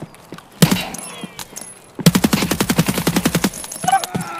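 5.56 MDR rifle gunfire in Escape From Tarkov, a single loud shot followed after a pause by a rapid sustained burst of evenly spaced rounds, close and dominant, with a few trailing echoes.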